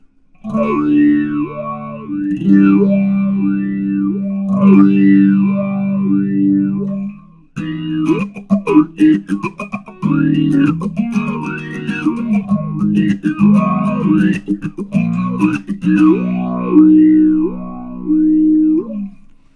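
An electric guitar played through the Axe-FX III formant effect produces loud, sustained notes whose tone sweeps in repeating vowel-like arcs, with a brief break midway before choppier strummed phrases resume.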